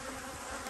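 Bees swarm around a hive at an outdoor apiary, a steady dense buzz filling the short stretch without a break, close and even in level.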